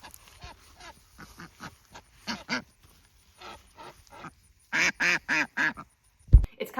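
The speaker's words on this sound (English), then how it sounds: "we can put in a clip of some of our ducks quacking" Ducks quack in a close, quiet spot, with scattered soft calls building to a loud run of four or five rapid quacks, then a sharp knock near the end.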